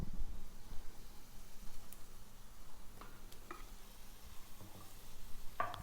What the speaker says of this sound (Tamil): கட் பண்ணி வச்சுருக்கிற வெங்காயத்தையும் சேர்த்துட்டு தக்காளியையும் சேர்த்துடலாம்.